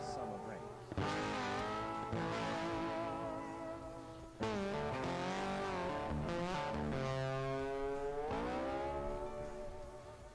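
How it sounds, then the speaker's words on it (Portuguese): A Repsol Honda MotoGP bike with Kalex chassis and a different exhaust is fired up at Jerez testing, its engine revving in loud rising and falling sweeps with sharp blips between. "O Bradl mesmo ligando a moto."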